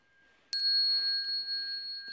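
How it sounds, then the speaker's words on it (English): A single bright bell is struck once and rings on with a clear sustained tone that slowly fades, close and loud, with no talking. "and we have a bell song"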